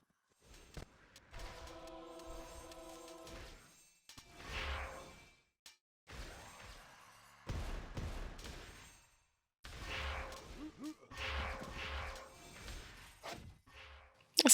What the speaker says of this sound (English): It's just all explosions.